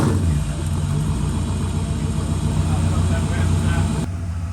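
A rare 1958 Corvette Fuelie with its fuel-injected engine runs loud and close, a continuous rumbling drone that holds steady before cutting off abruptly near the end.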